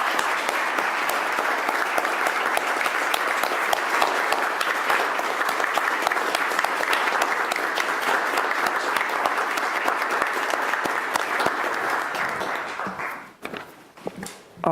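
Audience at a city council meeting gives a long standing ovation, steady dense clapping that continues for about thirteen seconds before quickly dying away into a few scattered claps and small noises.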